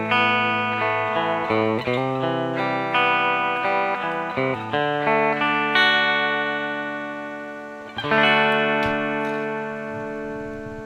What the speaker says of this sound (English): let's go with a stereo chorus, because that's going to sound really beautiful